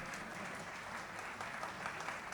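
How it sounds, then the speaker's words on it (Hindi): A Hindi poetry gathering's audience bursts into applause, a faint but steady crowd clapping heard from some distance throughout. "तालियां बजाओ।"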